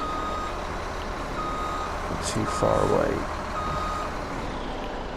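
A six-wheel-drive truck in the video game Farming Simulator 17 sounds steady, evenly spaced reversing beeps over engine noise, with a brief hiss and someone talking partway through.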